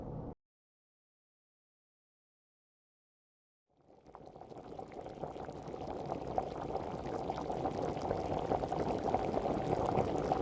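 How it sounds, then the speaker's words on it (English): Boiling water is poured steadily into a container for a crystal-growing kit, a soft, continuous splashing pour that starts after a brief silence and grows slightly fuller as the vessel fills. "And then we add it to our container and we stir it."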